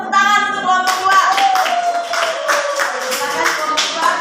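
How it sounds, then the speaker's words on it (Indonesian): A group of students claps after a classroom group presentation, starting out of tonal music or voices and continuing as fairly close, uneven clapping over a sustained musical tone. "Jadi tepuk tangan untuk kelompok"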